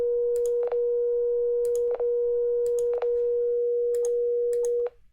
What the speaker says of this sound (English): What do you think a cosine wave will sound like?